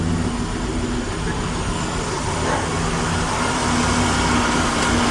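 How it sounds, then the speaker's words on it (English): A loud, continuous broadband rush of engine intake suction with a low rumbling engine underneath, the intake sitting close to the fan, steady throughout with no pauses. "something's making a sucking noise now"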